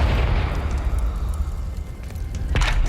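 A Confringo fire spell detonating in the game Hogwarts Legacy, a loud, sustained booming blast with deep rumble and a crackling burst near the end.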